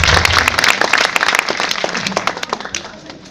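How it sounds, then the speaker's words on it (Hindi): A crowd at a retirement function applauds a group of children, dense loud clapping that starts strong and slowly thins and fades over a few seconds. "तो तालियों के साथ एक बार जोर से इन बच्चों का वो करें।"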